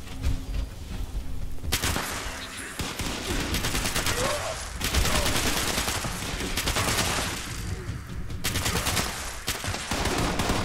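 Heavy gunfire in Fallout 76, dense bursts of automatic shots and booming reports filling the whole stretch loudly and continuously, with brief dips between volleys.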